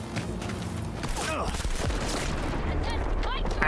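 Gunfire rings out in a Cyberpunk 2077 firefight as sniper rifle shots land amid a dense, continuous wash of battle noise, loud and close with no clear gaps between shots.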